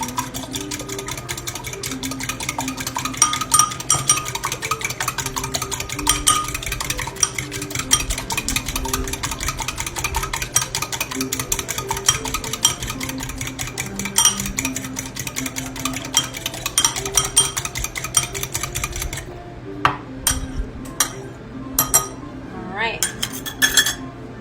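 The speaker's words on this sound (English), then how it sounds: "Actually, I might use a fork. I'm better at whisking with a fork." A fork whisks wet scone ingredients in a bowl for a blueberry almond scone batter, giving steady rapid clinking and scraping against the dish with a low background hum, then sparser separate clinks near the end.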